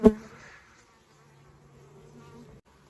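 Honeybees at an apiary hive, a colony with drones preparing to swarm, give a faint, steady low buzz after a sharp knock at the start, with no one speaking.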